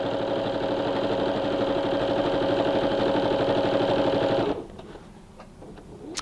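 Sewing machine stitching tote bag pieces together at a quarter-inch seam, a close, steady rapid mechanical whir that runs continuously for about four and a half seconds and then stops, leaving quiet room tone.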